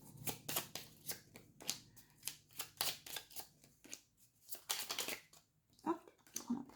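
Lenormand and tarot cards are handled and shuffled close up in a quiet room, giving repeated soft riffling and snapping bursts in an uneven rhythm, with occasional faint talk.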